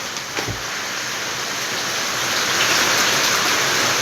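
Heavy rain pours down in a loud, steady, dense hiss that barely changes, with no pauses and no other clear sounds over it.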